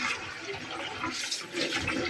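Tap water runs and splashes steadily while rice is washed in a home kitchen, a close, even, rushing sound with slight surges and no talking.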